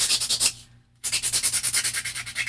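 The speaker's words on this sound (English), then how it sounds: "do a little bit of sanding on this craft paper" Sandpaper rubs back and forth along the edges of craft paper in quick, even rhythmic strokes, close and distinct, pausing briefly for a moment before the scratchy rubbing resumes.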